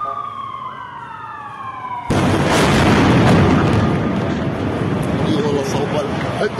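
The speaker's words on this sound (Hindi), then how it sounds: "अल नसीर इलाके में बड़ी एयर स्ट्राइक हुई है।" A sudden loud blast from an air strike in Gaza's Al Nasir area cuts off a wailing siren and leaves a long roaring rumble, close and dominant.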